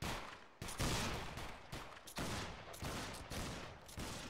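Musket fire from a line of soldiers in the video game Battle Grounds 3 rolls out as a ripple volley, with loud overlapping shots arriving in several bursts that each fade into rumbling echo.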